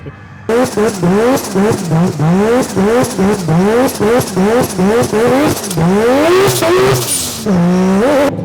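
A Corvette drifting at a drift event is heard up close, with a loud engine repeatedly revving and bouncing off the limiter while the tires scream continuously.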